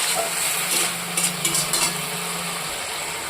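Fish heads frying in a pan for a Malabar spinach curry give a loud, continuous sizzle, with a few brief scraping stirs near the middle.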